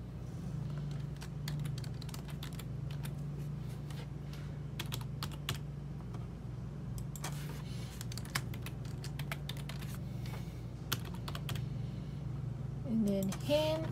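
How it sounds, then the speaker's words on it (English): Computer keyboard being typed on to enter a username, a quiet, fast string of irregular key clicks in bursts over a steady low hum, with a short bit of talk at the end. "then you can type your username"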